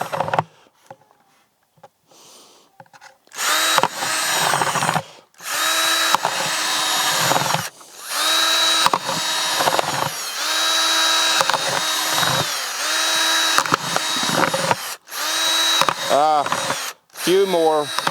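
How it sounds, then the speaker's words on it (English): Power drill fitted with a 10mm bit boring about six holes through the base of an old, previously used flower pot, several loud whirring bursts separated by pauses, with someone talking between them. "All we need is a drill with a 10mm thing here. I make about 6 holes."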